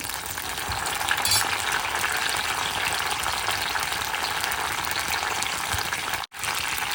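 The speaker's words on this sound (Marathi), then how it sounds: "या साईडला ऑइल गरम झालेलं आहे आपण यात मिरची घालूया" Green chillies frying in hot oil in a pan, a dense, steady, close sizzle and crackle that runs throughout with one brief cutoff near the end, with no talking.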